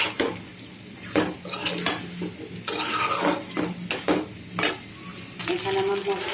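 Potatoes being stirred into spices in a pot for beef khichuri, with repeated metal utensil scrapes and clinks against the pot over a faint sizzle, close and moderately loud.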